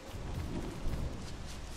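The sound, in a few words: rain in the video game Don't Starve Together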